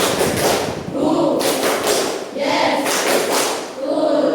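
A classroom group claps in a counted, rhythmic pattern, with repeated sharp claps close by and voices speaking over and between them.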